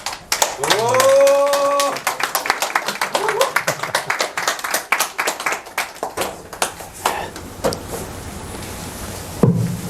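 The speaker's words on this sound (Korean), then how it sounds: "오늘 선행교육 부분에서 화엄사상 강의를 해주실 김도진 스님께 대중스님들은 박수로 맞으시길 바랍니다." Buddhist monks gathered for a lecture on Hwaeom thought clap to welcome the lecturer, starting with a voice and then a fairly close, irregular round of individual handclaps that thins out toward the end.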